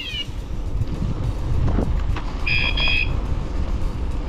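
Two short electronic beeps from a DIY electric bike alarm sound in quick succession over steady wind noise, with a brief higher chirp at the start.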